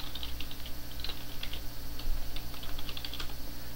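Fast, steady typing on a computer keyboard while an awk script is written, the keys clicking close and continuously for several seconds with no voice.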